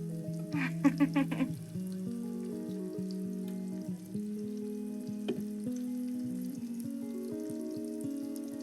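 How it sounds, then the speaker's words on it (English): Beef stew meat sizzling and popping in a hot skillet, loud and continuous, with a brief burst of clattering near the start. "You can hear our skillet already ready to go"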